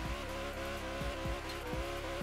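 A Tesla fitted with a Koenigsegg Regera engine in Forza Horizon 3 spins its wheels in reverse at full throttle, a loud steady engine roar with repeated tire squeals and engine swells about every half second, with no talking.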